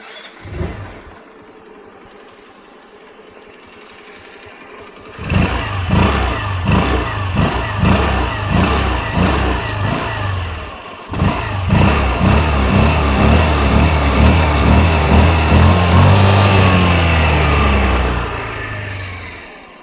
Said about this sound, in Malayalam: ഇതിൻ്റെ എക്സോസ്റ്റോടും കൂടി ഞാൻ കേൾപ്പിച്ചു കേട്ടോ എക്സോസ് നോട്ട് ചെക്ക്